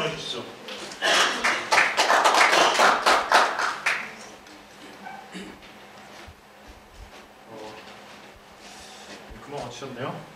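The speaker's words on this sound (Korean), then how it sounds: "박수 한번 보내주시죠." Seminar audience bursts into brief, dense clapping at a software engineering technical seminar, loud for about three seconds before fading into scattered taps and quiet room noise.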